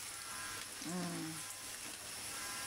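Water spinach (kangkong) stems hit a hot pan and fry with a steady, close sizzle. A brief louder burst of frying comes as they go in, and then the hiss carries on evenly to the end.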